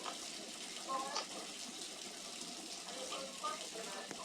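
Water running steadily from a tap in a bathroom inside a small cardboard house, a soft, continuous hiss with faint voices in the background.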